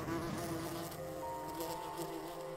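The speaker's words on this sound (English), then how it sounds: "Bad news for the dinosaurs. Good news for the bees." A steady insect buzz drones close by, like bees hovering, continuous and fairly quiet throughout.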